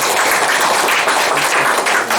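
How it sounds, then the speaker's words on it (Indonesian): Audience applause at an event, honoring the authors of a 700-page book; a dense, steady wash of many hands clapping that holds at full strength for the whole stretch. "Tepuk tangan dong buat mereka semua."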